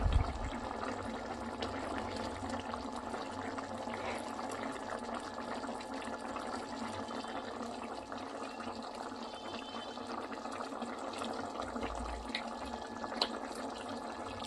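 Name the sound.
masala curry boiling in a pot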